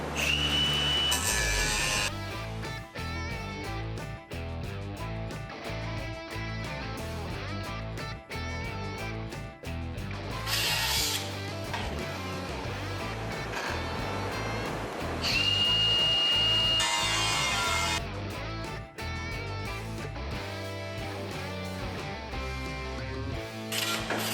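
A power tool cuts through the steel frame of a Chevrolet C10 squarebody truck, whining loudly in long sustained bursts with short pauses and a few rising pitch sweeps, over a constant background.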